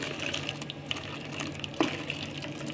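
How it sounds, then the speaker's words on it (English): Herbal tea is poured through a tiny sieve into a cup, a soft continuous trickle and gurgle of liquid heard up close at modest volume with a few small clinks. "Sieve it with a tiny sieve."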